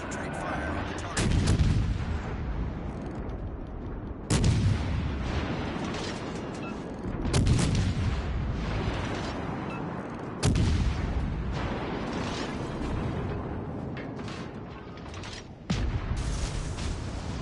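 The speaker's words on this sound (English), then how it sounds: "All stations, concentrate fire on the target." Naval gunfire from warships in the video game World of Warships: Legends, heavy booming salvos repeating every few seconds over a dense, rumbling battle bed.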